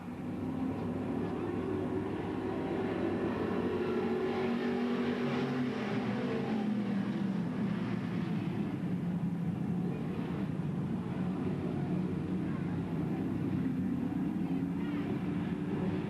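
Pure stock cars racing on the throttle at Bedford Speedway, a steady roar of several engines droning at a distance, with the pitch rising and falling, heard continuously beneath an announcer's voice calling the race.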